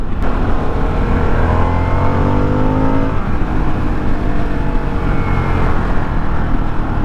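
A 2023 Harley-Davidson Sportster S engine roars while riding, loud and close, with a rising then shifting drone that climbs in pitch, dips around midway and keeps a heavy rumble alongside wind noise.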